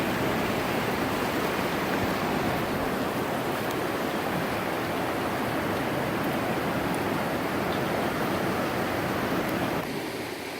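North Yuba River flowing in a loud, steady rush of water, close and continuous with no talk over it.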